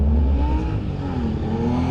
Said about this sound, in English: this bike sounds good. Whew. Listen to that.